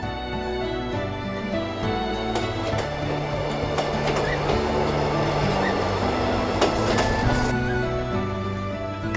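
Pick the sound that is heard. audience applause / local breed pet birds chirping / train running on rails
train running on rails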